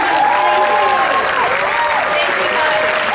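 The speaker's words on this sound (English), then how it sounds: "I'd like to raise your hand so we can give you a special round of applause." An audience at a band awards and dance-off event applauds committee leaders in a dense, loud, sustained round of clapping with some crowd noise, a voice speaking over it.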